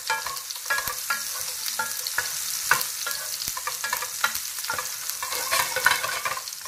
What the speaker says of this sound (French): Je veux vraiment que ça cuise lentement. C'est pour ça que je vais les lancer maintenant.